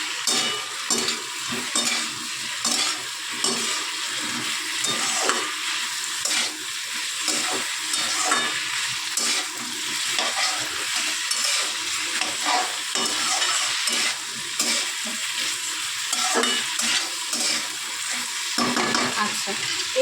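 Fish balls stir-fried in a pan for chilli fish, a loud continuous sizzle broken by repeated scraping strokes of a spatula at a steady rhythm, with a voice briefly heard.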